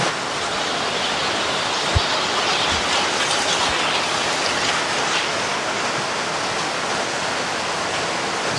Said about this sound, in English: It's getting very rainy now.